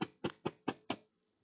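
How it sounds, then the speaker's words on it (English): Five even knocks on a door, close and sharp, evenly spaced, followed by silence. "Harry knocked."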